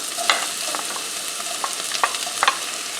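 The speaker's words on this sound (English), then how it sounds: "I'm going to saute these." One chopped onion sizzles in hot oil, with a steady fry hiss broken by sharp scraping clicks of a utensil stirring the pan at irregular intervals, close and clear with no talking.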